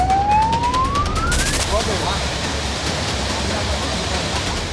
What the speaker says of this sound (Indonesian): para pengguna lalu lintas paham akan sirine dan tanda darurat yang dibunyikan